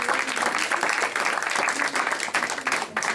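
A church congregation breaks into applause, a loud dense burst of clapping filling the whole moment, close and sustained with slight dips near the end.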